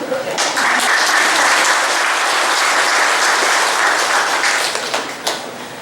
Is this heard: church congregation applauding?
yes